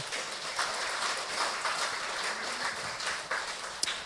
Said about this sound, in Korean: 격려 박수 한번 해줬으면 좋겠어요.